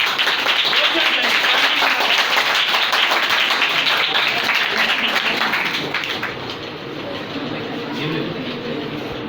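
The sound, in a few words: audience applause at an Urdu calligraphy competition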